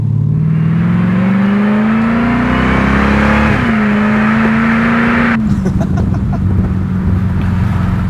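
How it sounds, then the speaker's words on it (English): A 2021 Dodge Durango SRT Hellcat's supercharged engine accelerating hard, a loud rising whine and roar that climbs steadily, dips as it shifts, then pulls again, heard from inside the cabin with the windows down. "Let's roll the windows down and really listen to that supercharger"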